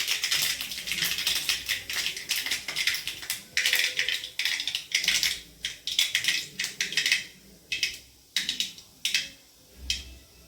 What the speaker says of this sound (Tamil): கடுகு, 2 வெந்தயம் போடுவோம்.